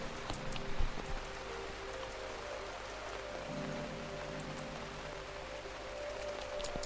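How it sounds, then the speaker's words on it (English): Steady rain pours down in a continuous hiss, fairly loud and close, with a brief thump near the start and faint low hum beneath. "You can like only hear the rain sound. It's just getting crazy"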